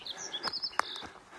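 A wild bird chirps along a mountain hiking trail near a wildfire burn scar on the Pacific Crest Trail, a few quick high tweets and one sharper call within a second or so, fairly close and clear.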